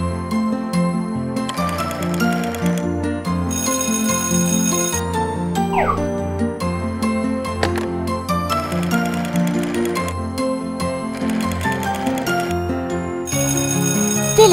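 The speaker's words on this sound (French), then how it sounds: "Téléphone." Toy telephone ringing in a children's cartoon, heard as repeated bright electronic ring bursts that start and stop in cycles over a busy musical backing, with no talk.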